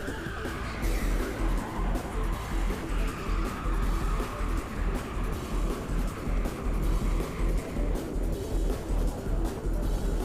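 Go-karts race at Teamsport Warrington, an indoor track: a continuous roar of small engines and tyre scrub pulses steadily up close, with brief scuffing surges as karts brake hard and bump together.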